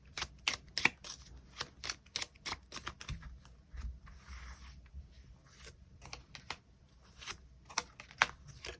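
Tarot cards being drawn and handled: a quick run of crisp paper flicks and snaps, irregular and close, with no voices.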